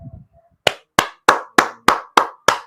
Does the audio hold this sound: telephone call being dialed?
no